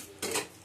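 A metal lid set onto a cooking pot, one brief clattering contact of metal on metal, close and fairly loud, with a faint tap at the end.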